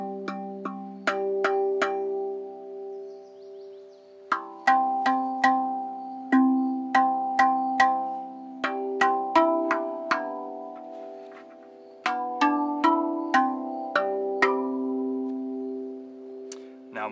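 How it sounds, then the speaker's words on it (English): A rav drum, a steel tongue drum, struck on the wing corners so that octave and fifth harmonics ring out: repeated bright metallic strikes in short clusters, each leaving a sustained bell-like hum, played alone and close. "you can hit the wing, and that activates the octave and the fifth"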